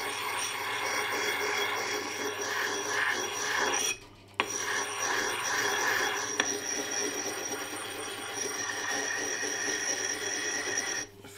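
Steel knife blade rubs against a Tormek sharpening stone, a continuous close rasping grind with a brief break partway and a few small clinks.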